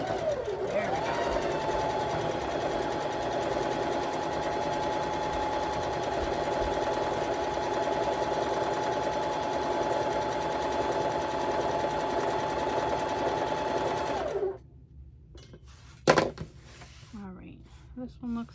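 A sewing machine runs steadily for about fourteen seconds while stitching a cat-themed quilt block, then stops, leaving a few light handling clicks and a sharp knock in near silence.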